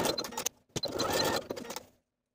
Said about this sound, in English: take it to your sewing machine and stitch back and forth a few times to secure